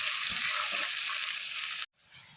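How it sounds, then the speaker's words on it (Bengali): Sliced onions fry in a pan for a home-style chicken curry, a steady bright sizzle that cuts off abruptly near the end, then resumes more faintly. "পেঁয়াজগুলো লাল লাল করে ভাজা হয়ে গেছে"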